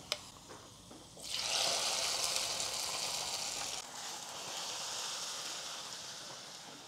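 Fried onions are poured into a pot of beef haleem, setting off a sudden soft hissing sizzle that holds steady for a couple of seconds, then eases to a quieter bubbling, faint and close, with no talking.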